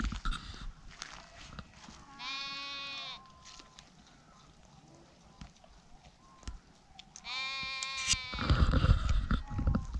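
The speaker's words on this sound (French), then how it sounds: "Des jolies petites chèvres, des moutons," A herd of goats and sheep grazing in Morocco bleats clearly in two bursts, nearby and fairly loud, with quieter rustling and shuffling between the calls.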